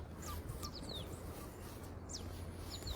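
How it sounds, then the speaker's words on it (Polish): Small birds chirp in short, scattered calls over a steady low background hum on a cool September morning by the Baltic beach and promenade at Świnoujście, moderately near and fairly faint. "Słuchajcie chwilę ptaszków."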